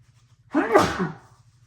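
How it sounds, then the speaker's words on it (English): One loud close sneeze bursts out after a brief quiet moment, then fades quickly. "Hang on, I gotta sneeze."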